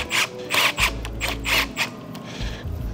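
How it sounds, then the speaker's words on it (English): Nuts being tightened while servicing a DWS double motor electric hydraulic pump, heard as a run of rhythmic ratcheting clicks, close and fairly loud, easing off toward the end. "With our Phillips, we're gonna tighten these up just so they're snug."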